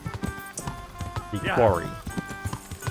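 Horse hooves clip-clopping in the medieval video game Kingdom Come: Deliverance, a rhythm of light repeated clops under someone talking, with a brief whinny-like cry partway through.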